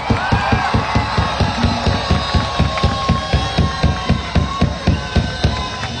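A crowd at a zombie walk in Mérida claps in quick, rhythmic unison, with sharp, even beats repeating several times a second over a background of steady tones and faint voices.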